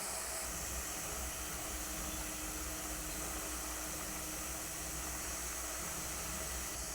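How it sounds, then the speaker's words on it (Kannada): Butter melting down into ghee in a pan gives a faint, even hiss of boiling and sizzling that runs unbroken throughout, with no voices. "ತುಪ್ಪ ಕಾಯುವಾಗ ಹೀಗೆ ಸೌಂಡ್ ಬರುವಂತಹ ಶಬ್ದ"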